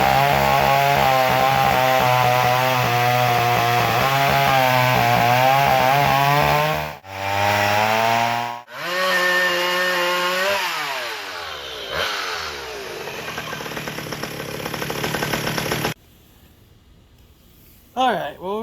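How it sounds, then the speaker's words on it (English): A McCulloch 1-85 chainsaw, revived after twenty years of storage, runs loudly up close, its engine revving and bogging as it cuts through wood, then dropping to a rough idle near the end. "See how this saw went from being locked up and unloved in a shed for 20 years to running and cutting again."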